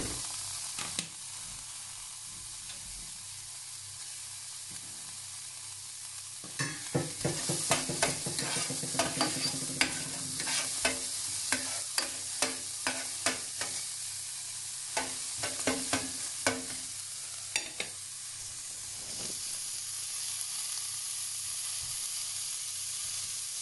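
Onions sizzle in a pot of hot oil for potato soup, a steady frying hiss broken by a run of sharp spoon clicks and scrapes as they are stirred, close and without talk.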